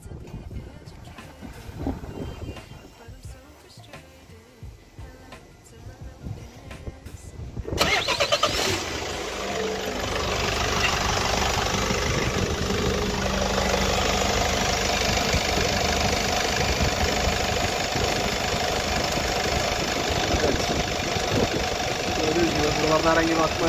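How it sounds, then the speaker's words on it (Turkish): A Peugeot Boxer van's diesel engine after an oil and fuel filter change: cranking noises, then a sudden catch and a loud, steady idle with a knocking rumble, close up, with people talking early on. "Şimdi kapağımızı kapatıp çalıştırmayı deneyeceğiz."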